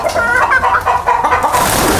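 Young breeding hens, around five to six months old, cluck loudly and close by in a coop on a chicken farm in Bali, with overlapping calls that fill the short moment.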